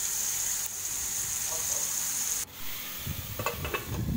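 Onions and tomatoes with salt, ginger and garlic cook in a pan for paneer butter masala, giving a steady, soft sizzle and hiss, with a few stirring scrapes and clatters near the end.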